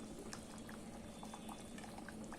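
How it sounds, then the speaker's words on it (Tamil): A pot of vegetable paya curry made without tomatoes bubbling at a steady boil, with a continuous soft simmering hiss and scattered small pops close by throughout. "இப்போ பாருங்கள், நம்ம பாயை நல்லா கொதிச்சிருச்சு."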